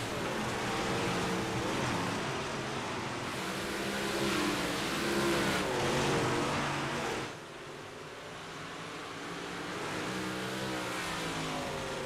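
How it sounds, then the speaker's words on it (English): Dirt race cars roar through a heat race at Fairbury in a sim racing game, with steady, loud engine drone and revving that swells and dips as the cars circle, running alone throughout. "That number 5 machine, 5 laps to go here in heat race number 1."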